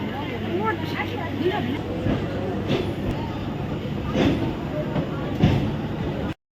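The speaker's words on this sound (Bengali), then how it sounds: "ট্রেন ছাড়ার সময় হয়ে গেছে" A busy passenger train waits at a Jadavpur-line station near departure time, its steady rumble filling the scene amid crowd noise and nearby talk, with occasional louder clanks.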